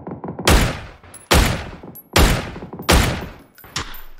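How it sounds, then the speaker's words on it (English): Four loud, sharp gunshots from a Dragunov rifle in a video game, evenly spaced about a second apart, each with a long echoing tail, alone with no talk. "Green is shooting at me now."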